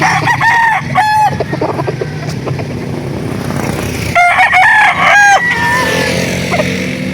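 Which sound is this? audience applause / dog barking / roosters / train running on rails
roosters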